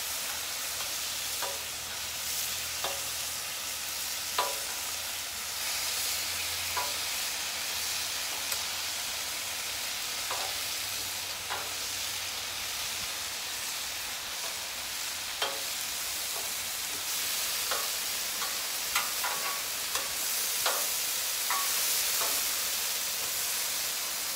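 Chicken and broccoli sizzling on an outdoor griddle over high heat, a steady soft hiss and crackle with scattered spatula scrapes and pops, quiet and continuous.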